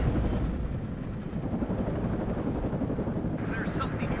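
Helicopters in the Cold War strategy game WARNO drone with a steady rotor thrum, loud and continuous, layered under ongoing voice chatter.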